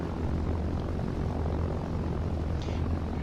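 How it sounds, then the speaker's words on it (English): The unarmed Caesar propeller plane of the Syndicate in Arma 3 drones loudly and steadily, a close, continuous engine roar with no voices over it. "we're in the unarmed Caesar plane that's part of the Syndicate"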